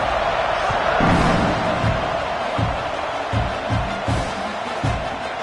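A football stadium crowd at an Auburn game rumbles steadily as a kickoff approaches, a broad distant roar with scattered shouts and thumps rising and falling throughout.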